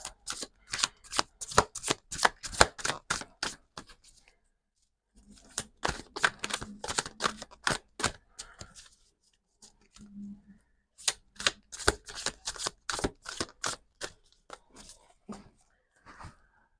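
Tarot cards are shuffled by hand in quick, crisp riffling bursts of rapid clicks. The bursts come in three runs separated by short pauses, close and fairly quiet, with no speech.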